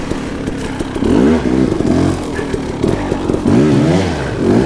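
KTM 300 two-stroke dirt bike engine revving loudly in repeated rising bursts with a rough, clattering tone, heard close up while climbing over rocks in a mineshaft.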